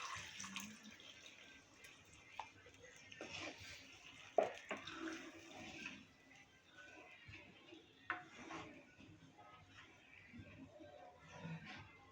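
Water poured into a pot for Turkish rice pilaf, a steady splashing stream with occasional clinks, fairly quiet and close, with a voice speaking now and then over it.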